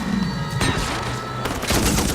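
Sustained machine gun fire as a loud battle sound effect, with dense rapid bursts and sharp cracks that continue throughout.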